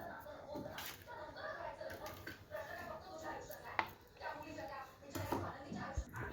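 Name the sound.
chopping dry fruits for urad dal ladoo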